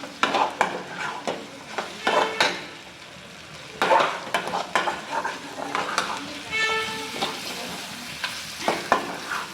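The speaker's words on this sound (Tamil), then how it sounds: "இது எல்லாமே நல்லா மிக்ஸ் பண்ணி விட்டுடலாம்" Mutton fry with pepper being stirred in a pan, a spoon scraping and clinking in repeated strokes over a steady sizzle, close and fairly loud.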